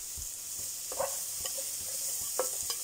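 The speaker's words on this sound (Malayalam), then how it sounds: "സവാള ചേർത്തൊന്ന് വഴറ്റുക" Sliced onion sautés in a pan with faint stirring scrapes and light taps over a quiet, even background sizzle, the utensil knocks coming at irregular moments with no talking.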